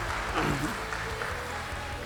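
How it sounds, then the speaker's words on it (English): Wedding guests clap in a brief round of applause during a toast, a short, dense patter of hands mixed with voices talking over it. "We owe ourselves a round of applause, okay?"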